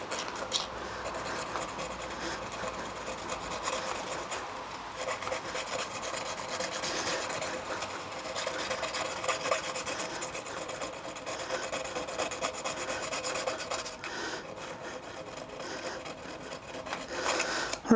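A file rasps against the inside of a machined bicycle axle on a seized quick-release hub, making repeated scraping strokes at a steady working pace, close and moderately loud, with no talk.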